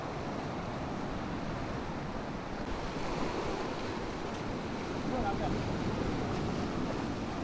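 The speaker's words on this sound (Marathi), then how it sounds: "आणि अखेर लाट आली." Sea waves wash onto a small hidden beach on the Konkan coast, a soft continuous surf rumble with gentle swells and wind noise, heard from nearby at moderate loudness.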